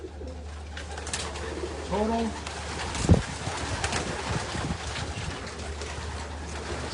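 Racing pigeons coo in a short burst amid steady outdoor noise and a low hum, among a large flock of about 719 birds being readied for a race, with a brief thump and faint voices nearby.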